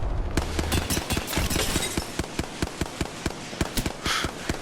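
Rapid bursts of automatic gunfire from a magazine in a ranked shooter video game, a steady rattle of sharp shots with brief pauses before the firing resumes in shorter bursts.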